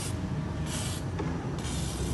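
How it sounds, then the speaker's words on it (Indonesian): An aerosol can of WD rust remover sprays onto the battery terminals of a Komatsu WA350-1 wheel loader, a continuous close hiss that surges in a few pulses over about two seconds. "langsung saja kita berikan semprotan WD"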